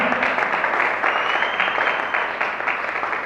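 Church congregation applauding in worship, a steady, dense wash of clapping that carries evenly throughout, close and fairly loud, with a faint voice over it.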